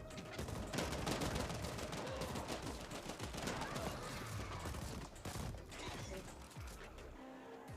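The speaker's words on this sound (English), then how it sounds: "These homing bullets are kind of fun." Homing bullets fire continuously in the video game The Ascent, a dense, rattling stream of rapid shots and mechanical clatter that holds steady at moderate loudness throughout.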